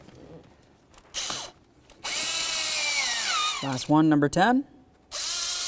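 A power driver or impact tool running down intake manifold bolts on a 1999-2007 Chevy Silverado, giving several close, loud whirring bursts with short gaps between them while someone talks in between.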